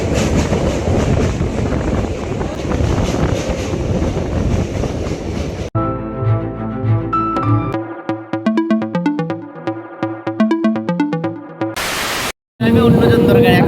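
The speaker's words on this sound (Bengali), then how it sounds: "আমাদের এই ট্রেনটা ছাড়তে চলছে 12টার বসে।" A passenger train on the Badkulla to Chittaranjan line in West Bengal runs along the rails, a loud, dense rumble with rattling for about six seconds before music takes over.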